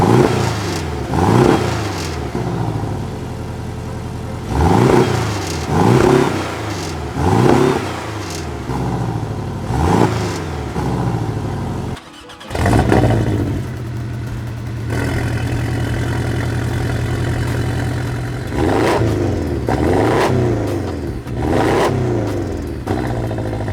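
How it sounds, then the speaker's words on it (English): A Porsche 718 Cayman with a 2-liter turbocharged flat-four engine, modified to Stage 2, revs loudly up close in a series of sharp blips from idle, then settles into a steady idle before revving twice more. "Now take a listen to this 4-cylinder turbocharged engine."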